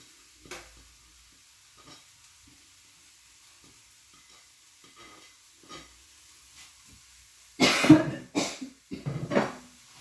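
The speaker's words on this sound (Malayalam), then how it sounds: "അപ്പോൾ ഇനി നമുക്ക് കപ്പളങ്ങയും സവോളയും കൂടെ ഇതിനകത്തേക്ക് ചേർക്കാം." Raw papaya and onion being stir-fried in a pan for a thoran, mostly quiet with scattered soft scrapes, then a loud burst of sizzling and stirring near the end.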